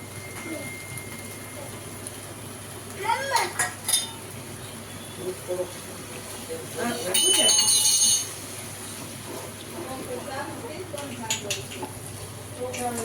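Mung beans being stirred in a pot for a sour mung curry, with intermittent metal spoon scrapes and clinks against the pot while people talk in the background.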